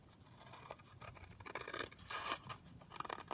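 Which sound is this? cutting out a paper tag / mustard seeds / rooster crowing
cutting out a paper tag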